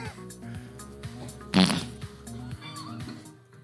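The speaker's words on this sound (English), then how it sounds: "Farts are not funny." A short, loud fart sound bursts out in the middle over a background of steady music and tones.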